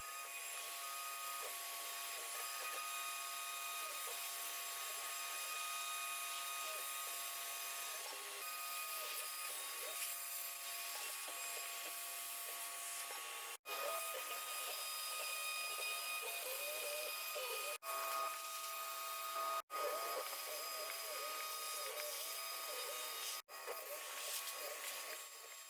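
A CNC router cutting an inlay pocket into a wooden cutting board with an end mill, giving a faint, steady whining drone broken by a few brief dropouts.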